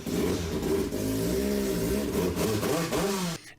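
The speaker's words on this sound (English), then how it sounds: "there really is something fun about revving all the way to 8K" A Honda K-series four-cylinder revving hard toward its high redline, a mid-pitched engine climbing and falling in pitch across several pulls before cutting off abruptly, close and alone.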